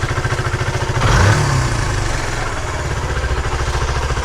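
A Suzuki Van Van 125 single-cylinder motorcycle engine idles steadily at close range after twenty years off the road, with a rapid even putter, a short blip of revs near the start, then settling back.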